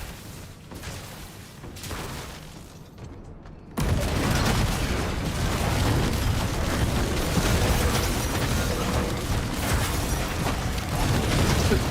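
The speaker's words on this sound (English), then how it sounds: "it exploded and killed me" A Diablo 4 explosion erupts suddenly into a loud, sustained roaring burst that fills the rest of the moment after a quieter stretch.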